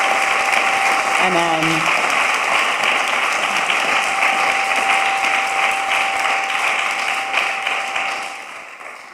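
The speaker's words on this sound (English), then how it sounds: "very nice hearty applause there." Sustained, hearty applause from an audience thanking panelists at an evening philosophy soiree, a dense roar of clapping that fades out at the end, with a brief voice near the start.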